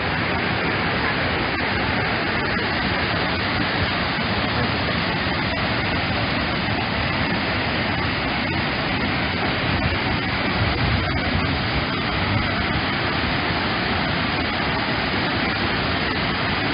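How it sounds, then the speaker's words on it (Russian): Water pours over a small concrete weir waterfall onto rock, a constant loud, broadband rushing roar that stays steady throughout with no clear talking. "Хорошо смотреть, как она стекает по породу."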